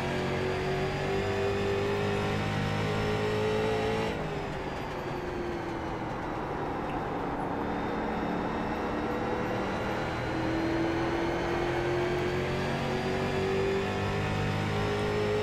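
Street Stock race car engines roar steadily in the iRacing sim at USA International Raceway, a loud continuous drone with pitch rising and falling as cars accelerate and lift around the short oval, no voices over it.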